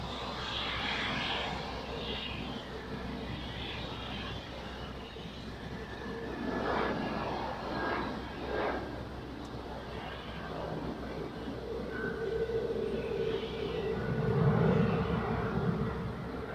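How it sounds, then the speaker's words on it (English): Aegean Airlines plane takes off from Zurich bound for Athens, a distant, fairly faint jet rumble swelling gradually across the runway. "Off we go to Athens. Have a pleasant flight on board of Aegean Airlines."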